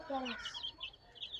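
A hen with a brood of about eleven chicks on grass outdoors clucks in short low bursts, with faint high chick peeps scattered after, quiet and close.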